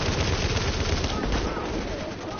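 Dense rapid gunfire from the video game The Division, loud and continuous like automatic weapons firing, with a voice faintly underneath.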